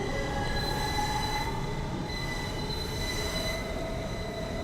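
R160 subway train wheels squeal continuously in a video game, a loud metallic screech with sustained high-pitched tones over a rumbling rail roar, with no talking.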